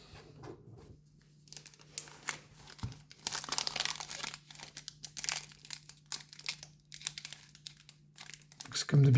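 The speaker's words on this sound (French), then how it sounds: "J'aime pas les ouvrir comme ça, les boosters." Foil wrapper of a Final Fantasy Magic trading card booster pack crinkling and tearing open up close, in bursts of rustle and crackle, with a steady low hum underneath and a voice talking in between.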